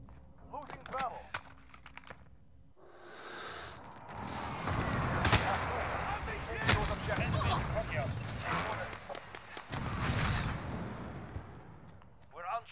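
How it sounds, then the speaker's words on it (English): A precision airstrike and gunfire in the video game Call of Duty Modern Warfare, with a rumbling spread of booming blasts and sharp shot cracks across most of the stretch, fairly quiet overall, with voice callouts around it. "Allied precision airstrike in."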